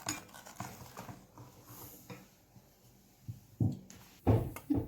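A pan is set down on a home kitchen stove with a few clinking metallic knocks, faint at first and then louder near the end, with no talking.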